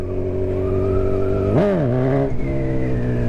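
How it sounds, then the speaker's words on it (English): A motorcycle engine in second gear lifting into a wheelie drones with a close, steady note, then surges sharply in pitch partway through before settling into a strong hum again. No voices. "Now we're ready for a wheelie"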